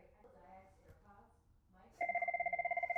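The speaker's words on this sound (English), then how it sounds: "all working together to do one thing, to get this phone to ring" A telephone begins ringing after a second or so of quiet talk, its electronic warbling trill pulsing rapidly and loudly through the final second.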